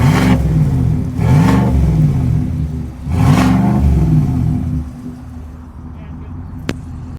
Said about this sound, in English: give you a little rev from it so you can hear that active exhaust